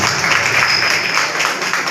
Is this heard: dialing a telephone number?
no